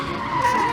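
A cartoon car skids in a sustained tire squeal with a steady high screech that swells slightly toward the end, heard alone without talk.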